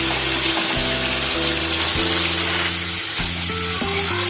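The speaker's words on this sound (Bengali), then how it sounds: "পেঁয়াজটাকে লাল লাল করে ভেজে নেব" Onion fries in hot oil with a loud, steady sizzle that runs the whole time beneath background music.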